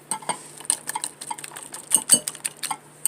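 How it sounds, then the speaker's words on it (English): A whisk clinks and scrapes around a bowl of lemon cake batter made with fresh lemon juice and zest, giving quick irregular metallic taps that are near and fairly loud, with no talk. "I just really want to get this whisked up good."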